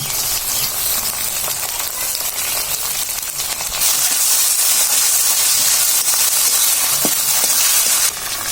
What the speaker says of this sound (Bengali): তো মা এখন দিয়ে দিচ্ছে কাঁচা লঙ্কা, আদা আর রসুন বাটা